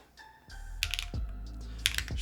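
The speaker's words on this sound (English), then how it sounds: "Oh, this keyboard's not plugged in." Typing on a freshly plugged-in Athena 65 keyboard during a build, with a few quick, close key clicks and clacks that stand out sharply over a low steady hum.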